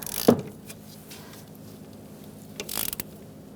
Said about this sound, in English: You're going to use an 11mm socket.